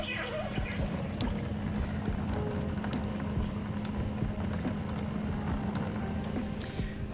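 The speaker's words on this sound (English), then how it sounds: "once the coolant has finished draining for the most part from the radiator" Coolant draining from a Nissan 240sx radiator: a continuous, steady stream of liquid splashing and trickling into a pan, moderately loud and unbroken throughout.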